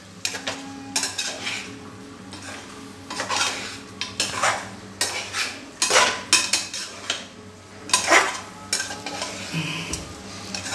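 Spoon scraping and clattering against a pan while chicken fry (kodi vepudu) sizzles, with repeated irregular bursts of metallic stirring over a low steady frying hiss, close and fairly quiet.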